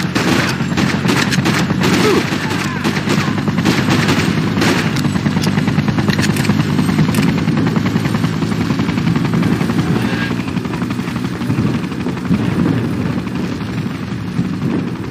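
Gunfire aimed at soldiers in the video game Freedom Fighters, with bursts of shots and rumbling over a dense, loud game soundscape throughout.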